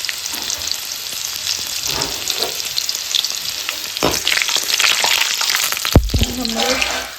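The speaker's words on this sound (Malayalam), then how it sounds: "അതിനുശേഷം ഞാൻ ഈ വെളുത്തുള്ളി എടുത്തിട്ട് ഞാൻ ഇതിനകത്ത് ഇട്ടേ." Crushed garlic dropped into hot oil with popped mustard seeds sizzles steadily and loudly up close, with a brief clatter of a utensil near the end.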